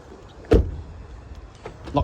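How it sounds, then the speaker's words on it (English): An MG ZS EV locks up and its side mirrors fold in: a sharp mechanical clunk, then a faint motor whir and a second soft clunk as the mirrors settle, close by and with no speech. "lock the car up. Mirrors fold in,"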